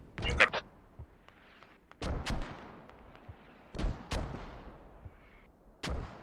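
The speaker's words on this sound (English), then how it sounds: "Mortars incoming north of you, Smile." Mortar and gunfire blasts in a military shooter video game sound as several thumping bursts with sharp cracks between them, faint and distant, with quiet stretches in between.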